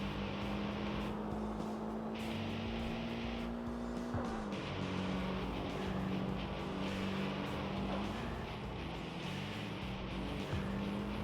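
A steady, buzzy synthetic engine whine holds its pitch with occasional shifts and dips, a constant Tokyo Xtreme Racer 3 (PS2) car sound without any talking.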